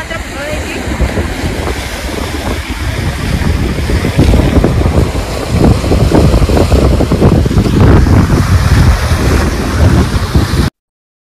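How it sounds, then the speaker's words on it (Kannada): A strong, cold wind blows outdoors at Pictured Rocks, Michigan, roaring hard and gusting into the microphone as a loud, continuous rush that swells in the second half, with possible voices buried underneath. "ಅಲ್ಲಿ ಹೊರಗಡೆ ಎಷ್ಟು ಗಾಳಿ ಇತ್ತಂತಂದ್ರೆ ನಾ ಏನ್ ಮಾತಾಡಿದ್ದ ಅದು ಕೇಳ್ಸಕತ್ತರನೇ ಇಲ್ಲ"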